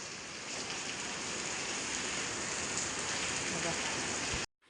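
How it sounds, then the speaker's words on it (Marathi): Heavy rain pours down in a loud, steady hiss with a dense patter on surfaces, continuing without pause until it cuts off abruptly at the end. "लय पाऊस यायला लागलाय काय करायचं"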